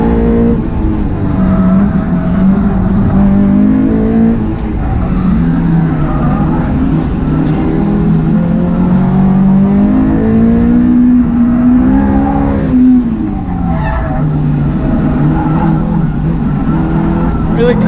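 A Honda S2000 race car corners hard on a track, its engine droning loudly and rising and falling in pitch while the tires squeal through the turns, heard close from inside the car.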